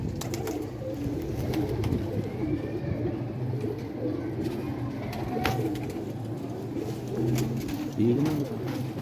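Faroz pigeons coo repeatedly in a low, throaty rhythm, near and steady throughout, with faint human voices and soft bird chirps in the background.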